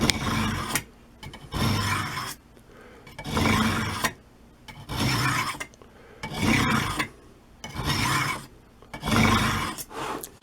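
Serrated knife drawn through a rod-style sharpener with medium-coarse stones under moderate pressure, five or six rhythmic rasping strokes close by, each about a second long with short quiet gaps between.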